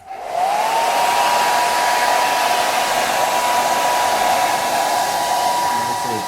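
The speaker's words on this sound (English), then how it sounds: "And I come back in with my hairdryer." A hair dryer starts up and runs steadily at close range, a loud continuous whirring blow with a constant high whine, used while whitewashing a craft project.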